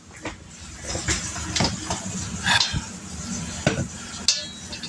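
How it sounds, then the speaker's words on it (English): A heavy bowl is picked up and moved in a kitchen, giving a few sharp knocks and scrapes of crockery against a hard surface among soft handling noise, with no talk. "Pick up the heavy bowl. Yep, bring the heavy bowl back over here."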